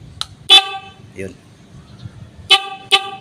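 Several short, bright horn beeps from a Rusi Macho 150 motorcycle, one longer toot followed by two quick ones, with a brief word spoken between them.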